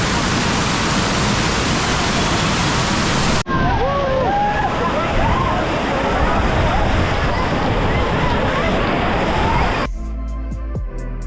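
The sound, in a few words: Amboli waterfall with strong water force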